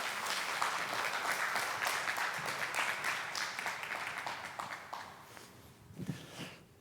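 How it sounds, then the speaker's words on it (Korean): A church congregation applauds together in a dense, sustained wave of clapping that tapers off over several seconds, followed by a few faint low sounds. "또 하나님 앞에 감사의 박수 우리 함께 올려드리겠습니다."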